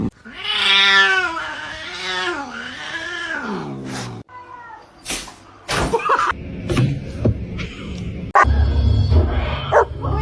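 Pet cats meow in long drawn-out wails at close range, followed by scuffling, thumps and short yowls, loud and indoors.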